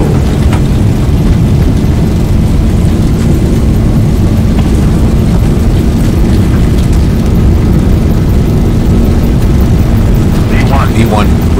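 Airliner engines roar at takeoff thrust in a flight simulator departing Honolulu, a loud steady broadband rumble filling the whole stretch, with voices speaking faintly beneath it.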